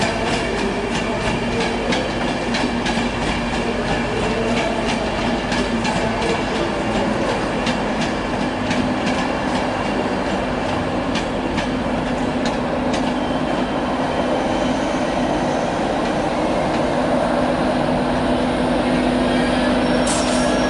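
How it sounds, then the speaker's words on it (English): A Virgin Trains East Coast service to London King's Cross departs a station, a loud continuous rumble of rolling stock with rhythmic wheel clatter and faint squeals, close by and sustained throughout. "departing there's a 17:57 Virgin Trains East Coast service to London King's Cross from Edinburgh"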